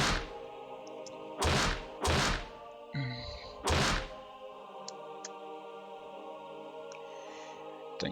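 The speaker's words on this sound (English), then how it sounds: "Please don't kick the metal fence" Four heavy metallic thuds from a metal fence being kicked in the Higurashi video game, spaced irregularly over a quiet background with faint tones between hits.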